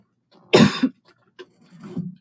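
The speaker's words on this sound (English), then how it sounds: "I've been coughing all day." A sick person coughs indoors: one sharp, close cough, a short pause, then a softer throaty cough and a bit of throat clearing.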